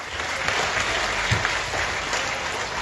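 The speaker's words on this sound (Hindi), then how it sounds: "एक बार जोरदार तालियां मार दीजिए" An audience at a gathering breaks into loud, sustained applause, a dense and even roar of clapping close by with no break.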